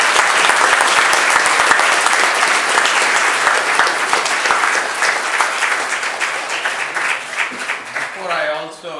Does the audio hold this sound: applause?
yes